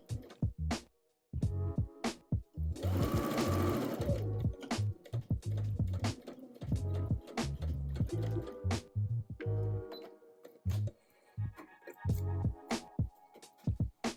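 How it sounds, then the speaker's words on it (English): A sewing machine runs a long stitch just inside the seam line along the curved edge of a shirt dress pocket, producing close, rapid mechanical clatter with irregular ticks and one denser burst. "To ease the curve edge of the pocket, stitch a 1/4 inch or 6 millimeters inside the seam line using a long machine stitch."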